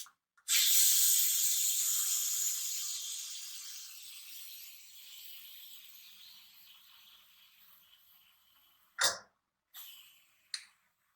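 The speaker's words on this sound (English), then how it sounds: "So she will fry the dal now." Boiled dal drops into hot oil and hisses loudly at once, the sizzle fading slowly over several seconds before a few sharp bursts of spattering near the end.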